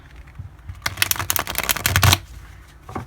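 Quick riffling of tarot cards on new card stock being shuffled, a rapid crackling flutter lasting about a second, with softer handling sounds before and after.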